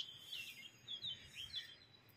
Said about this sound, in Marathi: सुंदर सुंदर पक्ष्यांचा आवाज येतोय